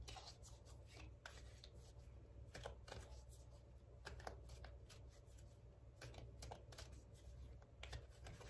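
Tarot cards are shuffled and cut by hand, giving soft papery riffles and light clicking snaps in uneven bursts, close but faint, against a low steady hum.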